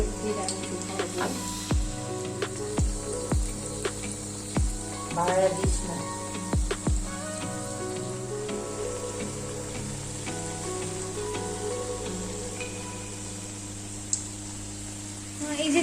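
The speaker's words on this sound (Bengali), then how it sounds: "দেখুন এখানে আরেকটা ব্যাচ আমরা ভাজতে দিয়ে দিয়েছি" Raw jackfruit kebabs fry in hot oil with a continuous sizzle, and several clattering stirs and knocks come early before the crackle settles into a steady fry, with no clear talk.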